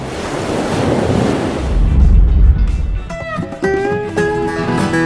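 Ocean surf and gusting wind roar around a stand-up paddler on a SIC Bullet 14 v2 race board, with heavy wind buffeting the microphone in the middle before tonal sounds cut in toward the end.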